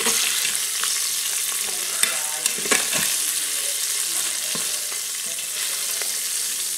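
Beef sizzling in a pressure cooker on the brown setting, a loud, steady hiss and crackle close by, with a few light scraping stirs along the way.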